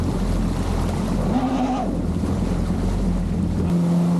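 A Yamaha WaveRunner jet ski runs on Lake Toho in Kissimmee with weeds fouling its intake; a loud engine drone with wavering pitch sits under constant wind buffeting and splashing water.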